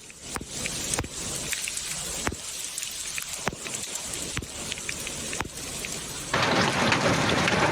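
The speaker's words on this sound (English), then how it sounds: "The thunderstorm will continue for a couple more days." A thunderstorm brings steady rain hiss broken by several sharp, loud cracks at irregular intervals, and the rain thickens into a louder, denser wash for the final second.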